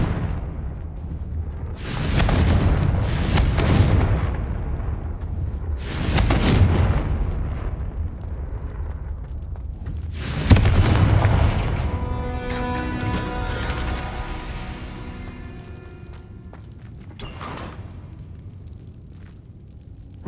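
Confringo fire-blast spells explode in Hogwarts Legacy, a series of heavy booming blasts with long rumbling, crackling tails, loud and close, spaced a few seconds apart.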